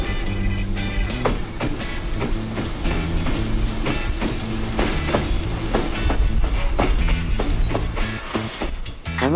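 A freight train hauled by EH500 electric locomotives rolls steadily past on the tracks, with a regular clickety-clack of wheels over rail joints and a continuous rumbling, loud and close.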